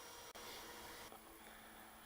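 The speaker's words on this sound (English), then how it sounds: "Sorry for the noise, the vacuum cleaner is running." Vacuum cleaner running steadily close by in a workshop during engine repairs on an Alfa Romeo Montreal, a continuous broadband whoosh with a brief dropout near the start and a slight shift in tone partway through.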